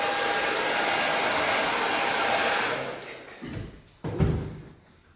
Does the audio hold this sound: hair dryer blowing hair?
yes